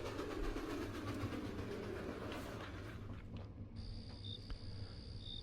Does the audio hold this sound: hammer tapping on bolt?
no